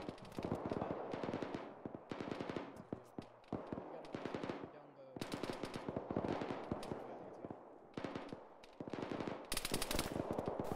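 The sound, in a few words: BTR armored vehicle firing its gun, from a video game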